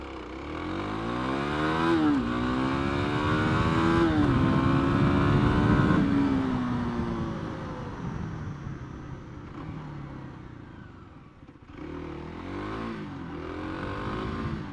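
Kawasaki KLX300 and Honda CRF300L dual-sport motorcycles accelerate hard, engines climbing through the gears with rising pitch and gear-change dips, loud and near before fading away, then another engine revs up late on.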